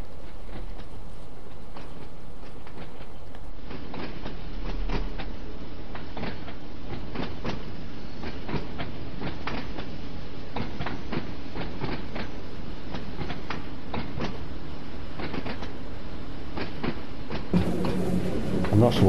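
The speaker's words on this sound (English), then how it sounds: "it's a tube train" Tube train on the Isle of Wight line in Train Sim World 2, rolling steadily with repeated clickety-clack rail joints and a constant running hum, close and fairly loud.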